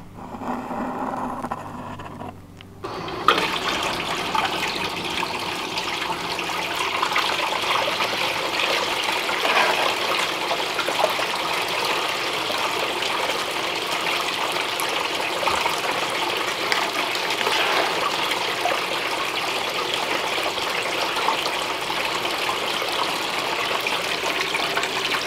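Water washing gold concentrates through a sluice at a mining test, a steady loud gushing rush that starts after a brief quieter moment and runs continuously without talk.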